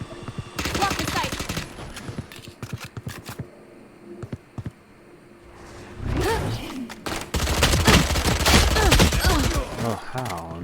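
Bursts of rapid SMG fire from a Valorant match, loud volleys in the first few seconds, then a quieter stretch and heavier sustained rattling toward the end, with game effects mixed in.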